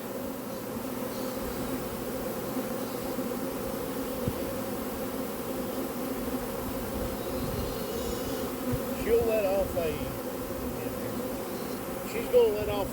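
A honey bee swarm drones in a dense, steady buzz around a shaken tree, loud and continuous throughout, with a few brief voice fragments rising over it near the end.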